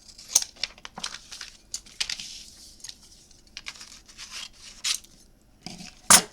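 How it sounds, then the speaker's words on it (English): Scissors trim paper for a handmade flower shop memory book, giving a string of close, crisp snips and light paper rustles in an irregular rhythm, ending with a sharper, louder cut. "Let's just trim this. We'll trim it to there."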